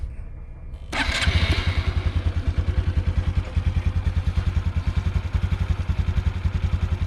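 A Honda Super Cub motorcycle engine cranks and catches, then settles into a steady, fast, even idle with a rhythmic chugging pulse, close and fairly loud.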